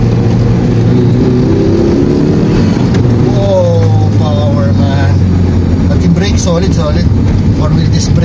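An older Mitsubishi Spacewagon engine hums and rumbles steadily while driving, loud and continuous from inside the cabin, with voices talking over it.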